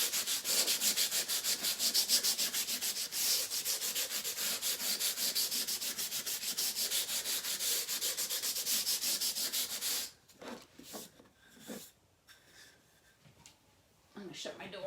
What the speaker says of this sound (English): Okay, so I'm going to sand just to smooth that layer down.